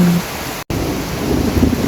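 Heavy rain pours steadily onto a garden of bromeliads and other plants, a dense close hiss filling the air with a brief dropout partway through.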